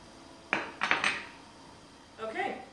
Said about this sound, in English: so I'm just going to go ahead and cut it into about ½ inch slices